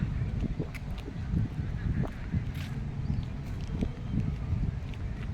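Ducks quacking and honking in scattered bursts outdoors in Hyde Park, fairly distant and soft, over a low background murmur.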